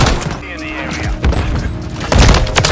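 Gunfire in the Modern Warfare 3 video game, with bursts of assault-rifle shots and thuds mixed over game radio chatter, rising louder near the end.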